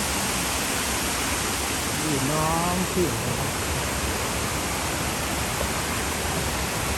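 Kroeng Krawia Waterfall in Sangkhla Buri, Kanchanaburi, roars as a loud, constant broadband rush heard from a bridge, with a voice briefly speaking over it.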